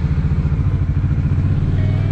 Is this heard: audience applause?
no